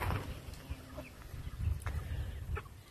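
Leghorn chickens and young roosters on a farm cluck softly and intermittently, faint and somewhat distant under low background noise.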